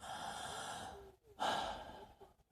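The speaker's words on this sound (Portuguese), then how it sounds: "Estou respirando assim, ó." Slow, relaxed human breathing heard close and soft, a long airy exhale followed by a fuller inhale, with no talking.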